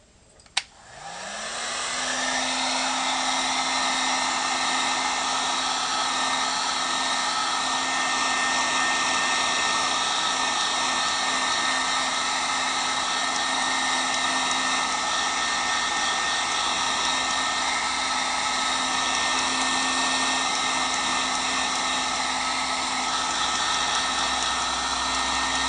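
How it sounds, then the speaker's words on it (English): A vacuum former's pump switches on with a click and climbs to a loud steady whining roar, droning evenly for over twenty seconds while dental retainers or whitening trays are formed. "I will then turn on the vacuum former"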